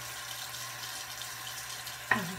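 Tap water runs steadily at a bathroom sink during face washing with charcoal soap, a soft continuous hiss with a brief splash or clatter near the end.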